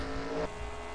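A video game race car engine at Dover roars past close by, a rough mechanical drone that sounds sour and drops in pitch abruptly midway as it moves away.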